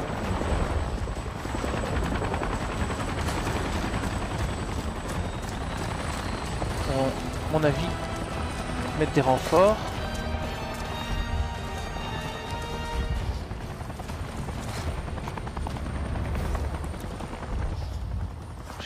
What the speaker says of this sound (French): J'entends les hélicos.